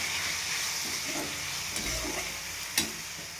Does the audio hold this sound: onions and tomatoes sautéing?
yes